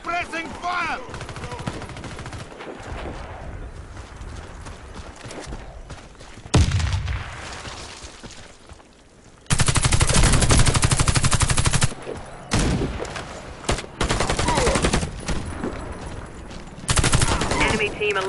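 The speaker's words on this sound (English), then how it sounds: "Suppressing fire!" Sustained machine gun fire in a Warface clan PvP match on the Bridge map hammers away in long loud bursts, broken by short pauses, with game voice lines and chatter underneath.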